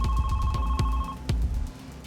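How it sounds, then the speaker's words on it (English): A cabin telephone on a cruise ship rings loudly and close by, with a steady repeating electronic tone pulsing in quick beats for about two seconds and no voices. "A woman was in her cabin on the cruise, and her phone rang."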